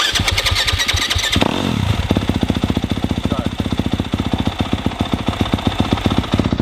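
A 2026 Yamaha YZ250F dirt bike engine cranks and fires up on a cold day, then settles into a loud, steady, close idle with rapid even pulses while people speak briefly nearby.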